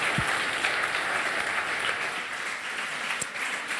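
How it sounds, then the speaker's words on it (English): Audience applause fills a hall at a hacker conference after a console-hacking talk, a dense steady wash of many hands clapping throughout, with a couple of sharper claps standing out. "So if you'd like to give them a round of applause"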